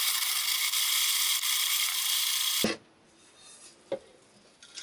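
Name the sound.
hand grain mill grinding berries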